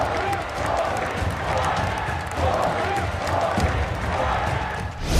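A large outdoor crowd applauds loudly to welcome the Prime Minister, with a dense, sustained patter of clapping and cheering rising and falling in waves throughout.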